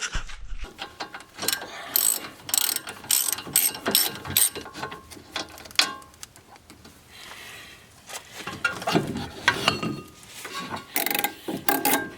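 A ratchet wrench clicks in repeated bursts while a car's steering spindle is removed to swap the lower ball joint, the close, moderately loud ratcheting running on and off with short pauses throughout.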